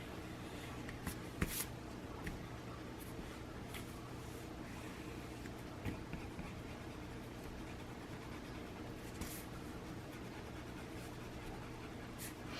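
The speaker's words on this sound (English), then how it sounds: "Oh, and I need to erase my pencil marks if you see any." A pencil eraser rubs over a sheet of vellum paper in a soft, steady scrubbing hiss, faint and close, with a few small taps and no voices.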